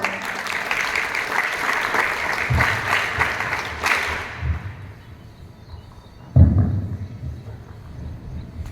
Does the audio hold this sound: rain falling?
no